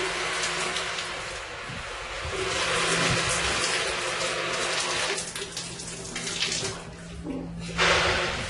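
Steady shower water runs and splashes continuously near the microphone late at night, a broad hiss with brief shifts in flow and a louder gush near the end, with no talking.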